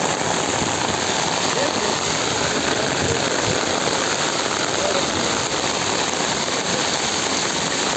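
Heavy rain pours steadily in Junagadh near a temple gate, a dense, loud, unbroken hiss of water on surfaces lasting throughout.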